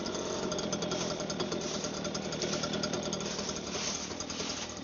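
A new STIHL BG 86C gas leaf blower runs continuously at high throttle, a loud, dense, unbroken engine roar with airy whoosh across the whole span.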